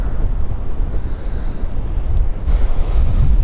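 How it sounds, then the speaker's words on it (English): Strong wind buffets the microphone in a steady low roar by the sea at Filey Brigg, with surf faintly beneath and no talking. "Sorry if there's a bit of wind"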